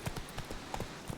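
Horse hooves in the Witcher 3 video game, a short burst of soft, evenly spaced clip-clop beats at moderate loudness with no talk over them.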